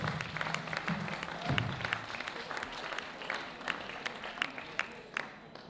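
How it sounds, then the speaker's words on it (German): Applause for two musicians at a seniors' afternoon during a Palatinate village fair, moderate clapping from a seated crowd with a few sharper claps standing out and a brief murmur of voices early on. "Den beiden Musikern ein kräftiger Beifall. Kräftiger Applaus."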